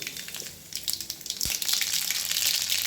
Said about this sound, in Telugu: ఆయిల్ హీట్ అయిన తర్వాత అందులో జీలకర్ర అండ్ ఒక ఎండుమిర్చి అలాగే ఆవాలు